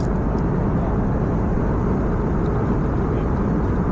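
Cabin noise aboard an airliner in flight from Malaysia to China: a steady, dense, low engine and air drone that stays even and unbroken throughout.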